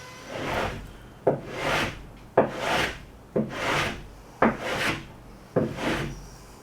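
A rasp levels a bevelled wooden bulkhead edge inside a Wave Rover 650 boat, in six steady, close strokes, each a gritty scrape that starts with a sharp catch and fades out.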